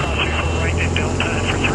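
A Diamond DA40 Star light airplane's engine drones steadily as power is added for taxiing, a constant close hum with faint periodic pulsing, under a voice talking.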